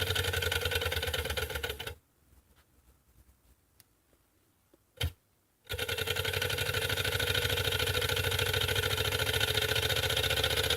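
Small Chinese solar engine running: a fast, even mechanical ticking whir that runs loud and close, drops out into near silence for a few seconds with one sharp click, then resumes steadily.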